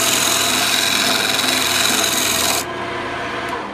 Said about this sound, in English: we're gonna use this tool right here, the flat chisel head, and we're gonna smooth that out